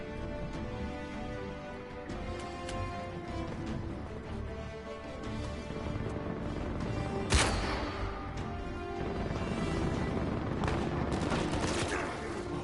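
Dense gunfire from a firefight in the video game Uncharted 4, with sustained bursts of shots layered over loud, continuous combat noise and one sharp crash-like impact partway through.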